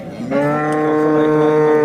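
A cow at a livestock market lets out a single long, loud, sustained moo, rich and close, holding steady for nearly two seconds with faint market murmur behind it.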